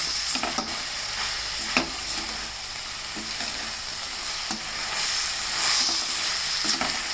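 Cabbage leaves stir-fry in a hot pan, giving a loud, steady sizzle and hiss with a spatula scraping and stirring at regular intervals throughout.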